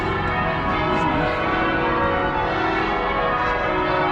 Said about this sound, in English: here playing out with the bells of Worcester Cathedral